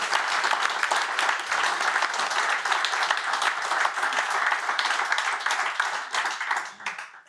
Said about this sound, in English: please give Aisha Seedat a very warm round of applause